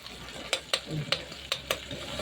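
A salt and chili spice mix is stirred through a frying pan, with a steady low sizzle and several sharp scrapes of the utensil against the pan at irregular intervals, close and moderately loud.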